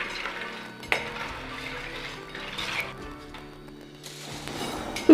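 Crisp banana chips lifted from hot frying oil with a metal scoop, a steady sizzle with light clinks and scrapes against the pan, close and clear with no talking.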